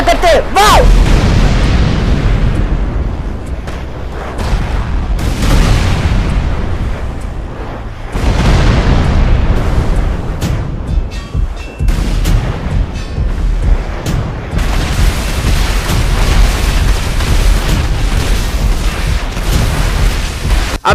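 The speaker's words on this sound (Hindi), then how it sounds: "चलो कुछ धमाका करते हैं।" Loud, repeated booms and blasts of explosions and gunfire in the battle game Free Fire, coming in dense bursts with short lulls and a voice speaking over parts of it.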